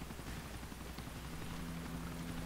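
Helicopter rotor noise from the video game GTA IV, a dense continuous roar with low thumping, steady and loud throughout with no talking.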